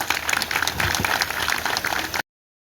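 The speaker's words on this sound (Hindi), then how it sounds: "इन्हें जोरदार तालियों से उत्साहित कीजिए" Enthusiastic audience applause at a community presentation for Project Roshni, a programme bringing light and health to the border village of Keran; dense, steady clapping from a crowd for about two seconds, then it cuts off abruptly.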